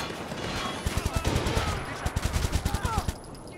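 Video game gunfire in Watch Dogs 2: close, loud bursts of rapid automatic shots in two rhythmic volleys over a steady ambient wash, with a brief gap between the volleys.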